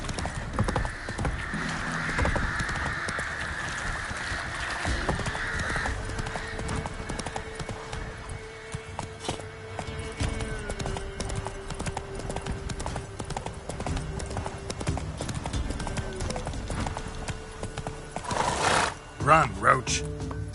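Roach, the horse from The Witcher 3, gallops with a rhythmic clatter of hooves under game music, with a neigh and a voice speaking near the end.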